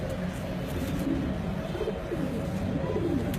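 Imam Deen breed pigeon, pure-bred third or fourth generation bird, softly cooing in low rolling phrases throughout, with faint background murmur.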